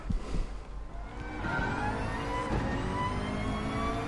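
A McLaren race car engine in the video game GT Sport revs and then holds a loud, steady drone with whining harmonics, close and continuous with no speech.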